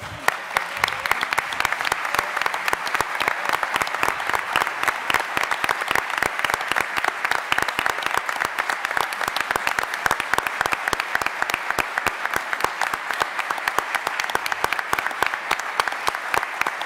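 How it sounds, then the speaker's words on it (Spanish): An audience claps in tribute to announcer Juan Valor, a dense, even round of applause holding steady for the full stretch, lively and close, with no speech over it. "Merecido el aplauso, realmente."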